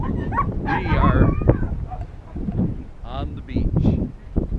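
Several dogs bark and yip in short bursts on a beach on Padre Island, some nearby, while people talk over them.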